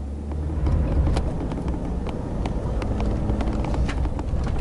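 A vehicle towing a trailer of roughly 3,000 pounds drives along, with a steady engine hum, road rumble and wind noise from inside the cab. Faint rattles and clicks come through, and no one talks.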